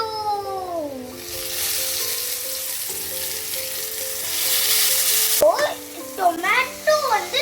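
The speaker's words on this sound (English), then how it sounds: "let the onion turn golden brown" Onion and tomato frying in a pan for pulled chicken tacos, a steady close sizzle that hisses brightly through most of the clip, then gives way to brief higher sounds near the end.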